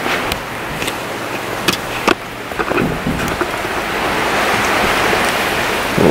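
Steady rain pours down on a morning in Fiji, a dense continuous hiss filling the scene with a few sharper drips and taps standing out early on.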